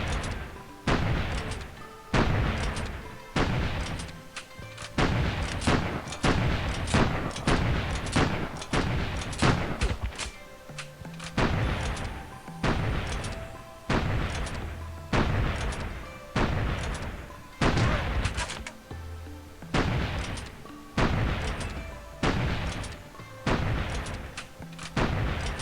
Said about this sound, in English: He's probably getting hit by a tank now.